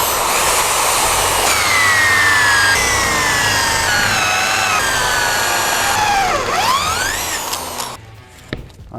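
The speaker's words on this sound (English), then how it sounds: "let's get a clamp, get a drill, and drill some holes." A power drill bores holes in clamped plywood, giving a loud, close motor whine that steps and drifts in pitch, swoops down and back up, then winds down and stops amid brief clatter.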